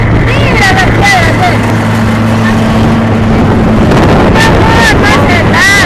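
Strong wind buffets the microphone at a lookout above the Manto de la Novia waterfall in Baños, a loud, unbroken roar filling the whole stretch, with people talking beneath it.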